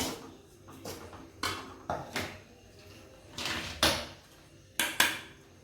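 Grated coconut is tipped into a bowl of powdered beaten rice, heard as a series of close, separate knocks and scraping taps of a spoon against the bowl with short rustles between them.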